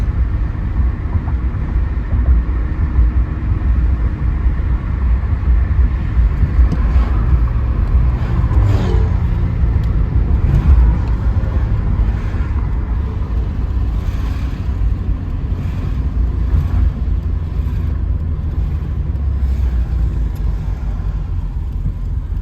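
A 1986 Alfa Romeo GTV6 drives in traffic, its engine and road noise a steady, loud rumble heard from inside throughout, with no talking.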